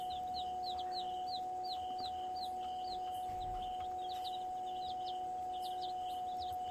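Day-old Rhode Island Red chicks peep in quick repeated high chirps, a steady series of short calls at moderate distance over a constant electrical hum and low background noise.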